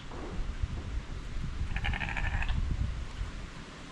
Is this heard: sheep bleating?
yes